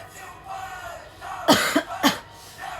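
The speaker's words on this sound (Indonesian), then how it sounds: "Cuman minus aku jadi batuk nih" Two or three harsh coughs burst out close by in quick succession, loud against a quiet room with faint background murmur.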